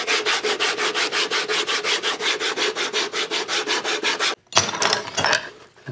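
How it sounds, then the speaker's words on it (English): A sanding block rubs along the edge of a leather saddle bag in quick, even back-and-forth strokes, about five per second, close and steady, then stops and gives a few looser scrapes. "So now we'll just take our sanding block. We're gonna sand all the way around here."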